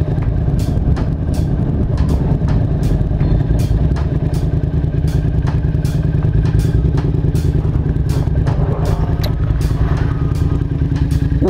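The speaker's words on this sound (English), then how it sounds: "there's at least one guy with a tractor in Bennett, New Mexico." A tractor engine runs nearby in Bennett, New Mexico, a steady loud low chugging with rapid rhythmic knocking and clatter throughout, no voices.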